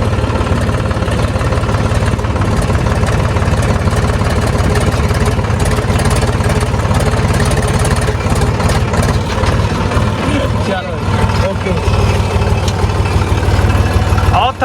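A farm tractor idles loud and close in a field, its engine chugging in a continuous low, even throb that runs throughout without pause.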